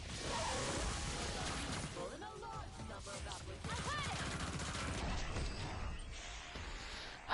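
M16 rifle fire in Killing Floor 2 crackles in rapid bursts amid clanking, whooshing combat noise, loud and busy from start to finish with brief pauses between volleys.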